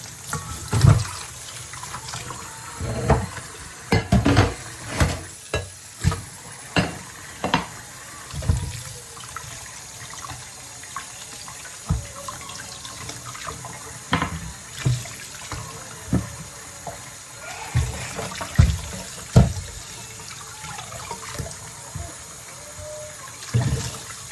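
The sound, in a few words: tap water washing vegetables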